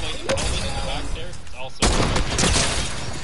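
Sniper rifle shot in a multiplayer video game: a loud, sharp burst cuts in partway through, with more gunfire-like bursts after it, all under constant talk and game noise.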